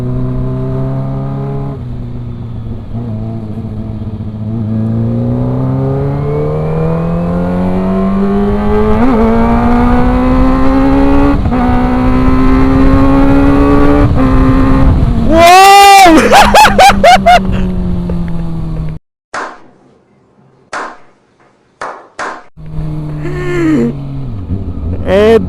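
Kawasaki ZX-25R motorcycle accelerating hard in fourth gear, a loud, rising high-pitched four-cylinder wail that climbs steadily for about fifteen seconds before a sharp rev-topping burst, then choppy throttle blips and gear changes as the engine settles.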